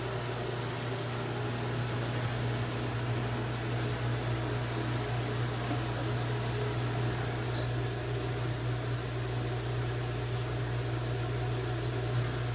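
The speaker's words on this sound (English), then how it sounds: "right now what you're hearing is the regular wash cycle" Dishwasher running its regular wash cycle, giving a steady, continuous hum and broadband wash noise at moderate level, unchanging throughout with no talk.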